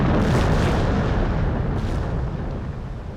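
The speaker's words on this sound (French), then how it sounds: "c'est l'explosion du vaisseau amiral français l'Orient" The explosion of the French flagship L'Orient, a large warship blowing up in battle, rendered as a loud, sustained roaring rumble that fills the whole clip and slowly fades away.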